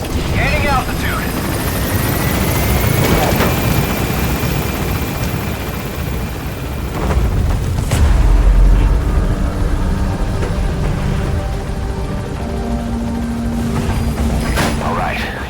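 In Metal Gear Solid V, a helicopter climbs away from the landing zone with a loud, steady rotor-and-engine drone that fills the whole stretch and swells slightly midway, with occasional game sounds layered on top.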